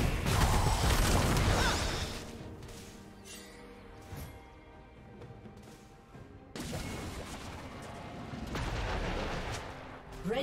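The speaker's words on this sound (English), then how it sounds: "Red team's turret has been destroyed." A turret collapses in League of Legends during a top-lane Illaoi versus Ornn match, with loud crashing, explosive bursts at the start, a quieter stretch, then another heavy rumbling impact.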